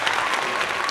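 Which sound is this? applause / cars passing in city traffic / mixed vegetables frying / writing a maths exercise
applause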